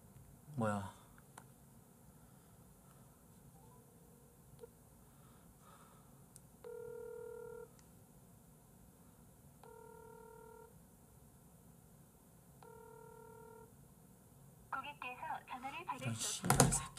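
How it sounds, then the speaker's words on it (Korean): Telephone dialing tones in three evenly spaced bursts, each a steady electronic tone lasting about a second, under a low background hum, then brief rustling and clatter at the end. "전화 한번 하겠습니다."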